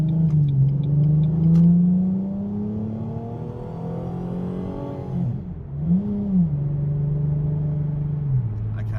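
A V6 car engine revs up steadily toward the redline, its pitch climbing high, then briefly drops and surges again before holding a loud, droning note.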